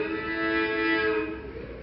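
A steady drone imitating a bagpipe in Irish music at a church concert, sustained tones swelling and then easing off, heard alone.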